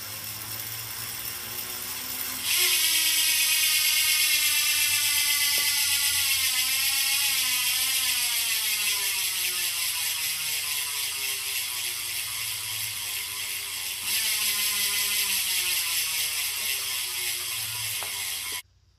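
A No.6 45/50 ultralight bicycle wheel's freewheel hub buzzes with rapid ratchet clicking as the wheel spins and slowly winds down, then gets spun again, loud and close.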